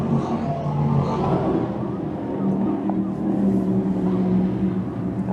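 Race cars at Can-Am Speedway roar down the back straightaway in a single-file field, a continuous engine drone heard from a distance under an announcer's steady commentary.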